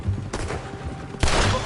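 Game gunfire in a confrontation with soldiers, two loud bursts of shots with a stretch of rumbling battle noise between them, close and loud, with no talk.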